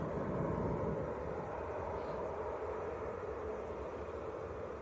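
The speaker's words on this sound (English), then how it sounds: "ATR 72, Aer Lingus from Belfast." An Aer Lingus ATR 72 turboprop arriving from Belfast at Manchester Airport gives a steady, fairly faint engine drone at a distance, holding level with a slight fade at the end and no talking.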